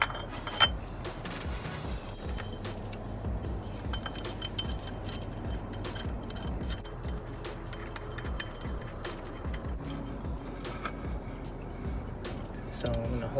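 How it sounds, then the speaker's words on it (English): Metal bolts clink and rattle against an aluminum power steering pulley on a BMW E92 M3 engine, close and intermittent, with scattered taps, ticks and sharp metallic chinks. "now we're gonna put our bolts back on and install the power steering pulley here."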